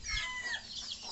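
Chickens on a small home farm in the Philippines, near a laying hen, give a steady run of soft, overlapping clucks and squawks over about a second, with no talk.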